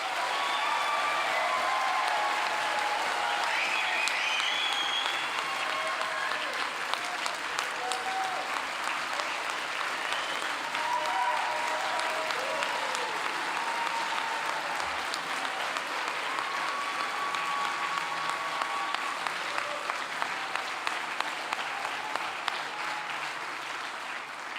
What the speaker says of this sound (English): one more round of applause for the class of 22